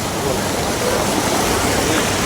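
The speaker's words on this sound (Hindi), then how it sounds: "सुनो, नदी बहुत तेज है।" A fast, swollen river rushes in a dense, steady roar of broadband water noise, close and loud with no pauses.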